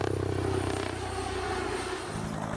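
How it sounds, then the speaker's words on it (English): A five-blade Comanche helicopter rotor produces a smooth, continuous whir rather than a distinct chop, steady and fairly loud throughout, with a slight pulsing at the start. "it cuts down the normal chop, chop, chop sound from a helicopter into a more discreet whir"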